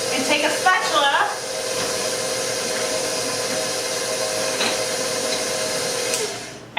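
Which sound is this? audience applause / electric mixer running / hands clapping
electric mixer running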